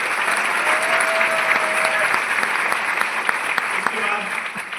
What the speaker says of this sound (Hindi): तालियां मेरे लिए।